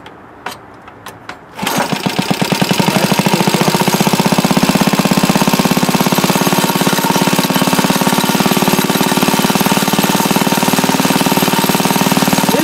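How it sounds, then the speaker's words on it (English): A restored Briggs & Stratton lever engine, formerly seized, fires up after a moment of quiet and runs loud and close with a fast, steady, knocking putter while loose clamps rattle along. "if you hear any rattling, it's these clamps I got, Still rattle, but let's give it a go"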